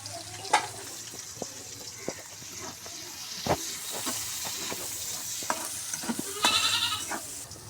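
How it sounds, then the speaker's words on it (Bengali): Chopped onion with bay leaf, cinnamon and garam masala frying in oil for a country chicken curry with taro, giving a steady close hiss broken by repeated stirring scrapes and clatters. "লাল লাল করে আমার পেঁয়াজ মশলাটা ভাজা হয়ে গেছে"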